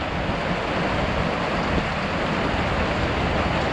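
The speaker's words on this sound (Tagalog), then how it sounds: "ayun na yung ulan nabot na tayo ng ulan" Steady rain pours down outdoors, a dense, even hiss of falling water that stays loud and unbroken throughout, with no voices.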